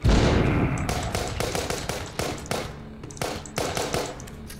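Gunshots ring out in the zombie shooter game The Walking Zombie 2, a loud opening blast followed by a series of sharp, irregularly spaced shots with short gaps, no talking over them.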